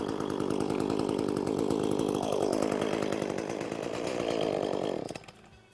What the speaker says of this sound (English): now I'm ready to start the chainsaw